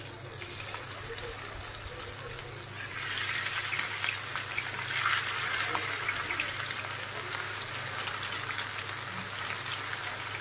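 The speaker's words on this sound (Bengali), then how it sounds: "মাংসগুলো আমি ফ্রাই করছি।" Chicken pieces for garlic butter chicken fry in a pan with a steady hissing sizzle that swells slightly partway through and stays moderately loud. A voice talks over it at times.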